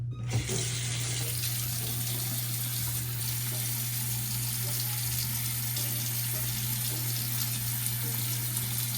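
Warm water runs steadily from a tap into a bathroom sink, a continuous close hiss and splash that stays even throughout with no talking.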